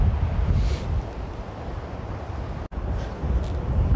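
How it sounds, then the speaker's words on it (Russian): Strong gusting wind buffets the microphone during a storm on the Baltic coast, a dense low roar that swells and eases. A brief dropout cuts in near the end, with no speech over it. "Ну, такие вот у нас ветра, шторм,"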